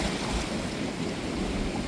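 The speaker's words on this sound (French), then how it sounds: "je viens d'éviter une grosse vague" A large ocean wave surges against a rocky sea wall, a dense, loud roar of churning water and spray that fills the whole moment without pause.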